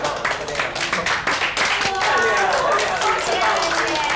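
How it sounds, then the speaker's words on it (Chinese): Office staff at Chen's jewellery company clap for Amy, a colleague who reached the final of a jewellery design contest, with dense, steady applause that fills the room, mixed with cheering voices. "请大家用最热烈的掌声，恭喜艾米"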